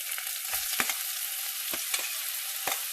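Onion sizzles continuously in a pan over a medium flame, with several sharp spatula taps and scrapes standing out at irregular intervals over the steady frying hiss.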